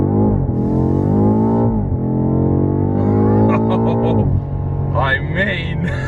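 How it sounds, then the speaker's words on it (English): A 2019 BMW M5 F90 launches hard under launch control, its engine roar rising steeply in pitch through each gear before sharp upshift breaks. The note is loud and close and stays strong throughout. "So let's try launch control here."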